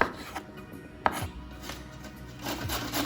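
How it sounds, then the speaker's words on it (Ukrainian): Knife strokes slicing mushrooms on a board, a few soft irregular cuts with one sharper knock, close by and quiet, no voices. "А поки я нарізаю гриби"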